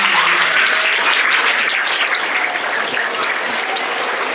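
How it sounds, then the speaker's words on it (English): Students and teachers at a school awards ceremony clap in a dense, sustained round of applause that fades slightly toward the end. "Now you can give them a proper round of applause."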